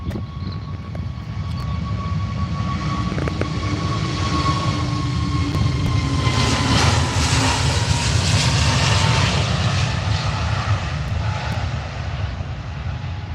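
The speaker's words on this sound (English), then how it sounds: "Yes, we do have the Emirates A380 about to start its pushback" Engines of an Emirates Airbus A380 bound for Dubai run during pushback at Manchester Airport, a loud continuous roar with whining tones that swell and ease across the clip, no voices over it.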